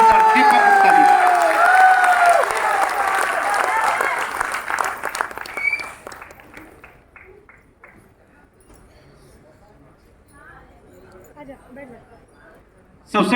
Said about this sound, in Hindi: तो जोरदार तालियों से हमें वेलकम करते हैं